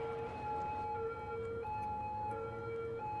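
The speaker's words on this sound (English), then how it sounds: "there's a police car going by" A police car siren in Cities: Skylines wails in steady, fairly faint tones as it speeds across a bridge at night, with no voices.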